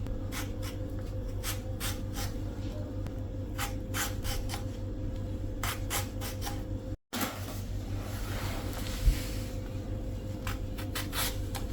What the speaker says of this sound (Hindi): अब इसकी आउटर स्किन को हटा लूँगी।